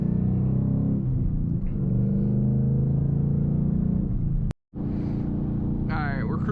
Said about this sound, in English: Alright, we're cruising in 5th gear.